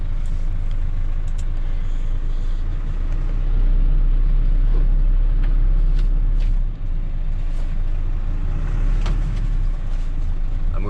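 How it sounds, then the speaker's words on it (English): A truck pulls out of an X-ray inspection bay at the Georgia–Turkey border crossing, its heavy engine rumbling loud and close with a steady low drone throughout. "We've just jumped back into the truck and we're just driving out of the Xray bay."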